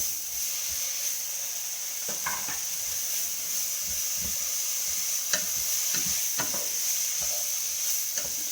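Chopped spring onions and leeks fry in a pan, giving a steady sizzle throughout with occasional clicks and stirring scrapes, close and moderately loud, no talking.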